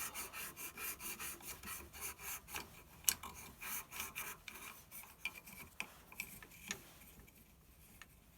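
Inside of a yew wood goblet being smoothed on a lathe, with a steady rhythmic rasping scrape pulsing in quick regular strokes, close and fairly quiet, with no talk.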